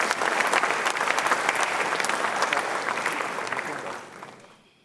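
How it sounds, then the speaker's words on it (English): A big round of applause from the audience at an honorific lecture in Ghana, dense continuous clapping that holds strong for several seconds, then fades out at the close. "Shall we do one more big round of applause in appreciation?"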